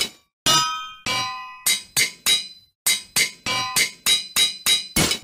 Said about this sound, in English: Let's move on to the anvil.